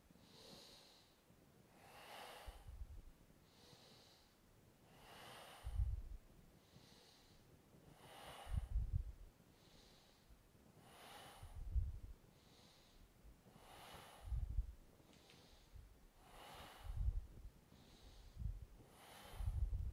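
Slow, deep breathing during a yoga session for legs and hips, each audible nasal inhale and exhale repeating about every three seconds, close and fairly loud, with airy snort-like bursts at the peaks and no talking.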